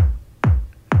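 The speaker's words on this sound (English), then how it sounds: "And then there's another modular kick underneath it as well," A second modular synth kick thumps twice, each hit a punchy click dropping into a deep falling-pitch boom with pronounced pitch decay, loud and close.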